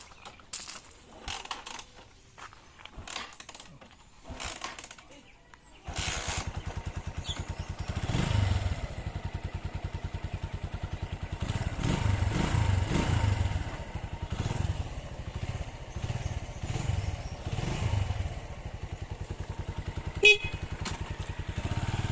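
A Keeway 100 motorcycle engine idles steadily and close by, with a low rumbling throb, after a few seconds of quieter clattering and handling noises.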